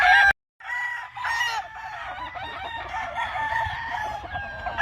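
Roosters crow repeatedly on a gamefowl farm, loud and close, several overlapping calls with some clucking and no talk, broken by a brief dropout near the start.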